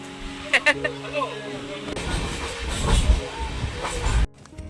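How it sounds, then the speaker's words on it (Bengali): A passenger train on the Sealdah to Darjeeling route rolls along after departure, a steady rumbling and rattling carriage noise with hiss, close and loud, while people talk over it before it cuts off abruptly. "যাক আমাদের ট্রেন এখন ছেড়ে দিয়েছে"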